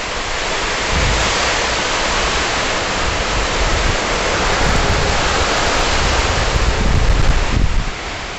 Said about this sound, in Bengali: দেখো কি বৃষ্টি শুরু হয়ে গেছে, পুরো হাওয়া দিচ্ছে, হাওয়া দিচ্ছে আর বৃষ্টি হচ্ছে।